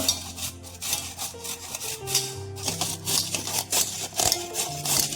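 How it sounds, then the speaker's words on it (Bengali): Potatoes grated for crispy pakoras, making a continuous rhythmic rasping scrape of repeated strokes, close and fairly loud, with faint background music. "আলুগুলো খালি গ্রেট করে নেব"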